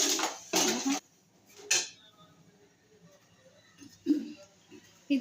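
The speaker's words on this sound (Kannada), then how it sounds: "ಇದನ್ನು ಸ್ಲೋಲಿ ಮಿಕ್ಸ್ ಮಾಡಬೇಕು ಪಾಕ ಮಾಡಲಿಕ್ಕೆ" Sugar syrup for gulab jamun stirred slowly in a pan over medium flame, giving a few sharp creaking scrapes and clinks separated by quiet pauses.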